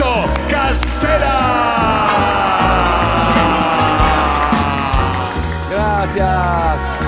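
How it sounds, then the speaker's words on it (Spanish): Studio audience cheering and whooping with clapping as an Argentine television host makes his entrance, loud crowd noise mixed with music and shouts, sustained throughout. "Fuerte el aplauso para recibir al señor Beto Casera"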